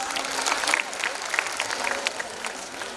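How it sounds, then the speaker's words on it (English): An audience claps after a children's performance at a school annual function, giving a dense, steady round of applause from a large crowd that lasts throughout. "Let's give them a big round of applause."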